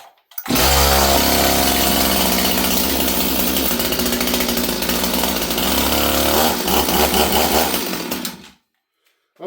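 A STIHL 026 chainsaw being pull-started roars loudly at close range for about eight seconds, its engine pitch wavering, before it cuts out into silence.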